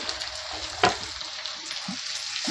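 Onions frying in a pan for avarekalu uppittu alongside green chillies, a continuous close sizzle with a sharp clink of a utensil and light stirring sounds.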